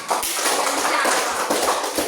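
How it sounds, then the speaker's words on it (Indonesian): Schoolchildren clap together for a classmate in a classroom, a dense, loud, continuous patter of many hands close by, with bits of noise and movement mixed in. "Iya, tepuk tangan dulu untuk Atika."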